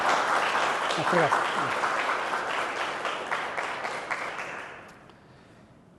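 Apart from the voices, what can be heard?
applause of thanks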